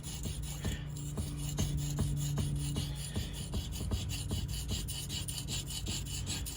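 Knife blade scraped back and forth across an abrasive brick while sharpening, giving a steady, close, gritty rasping with rapid repeated strokes and no talking.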